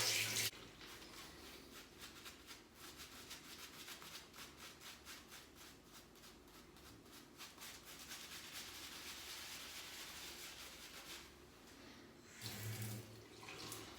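Tap water runs over a hand in a sink during a wet shave, a steady quiet hiss of flowing water with faint rubbing, lasting about fourteen seconds, with a brief louder splash near the start and again near the end.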